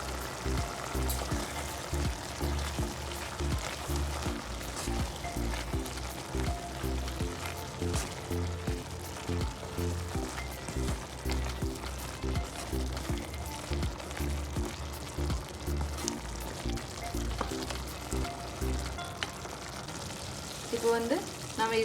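Mutton intestine curry with spices is stirred and frying in a pan, giving a continuous soft sizzle with repeated scraping stir strokes throughout. The sound is fairly quiet and steady.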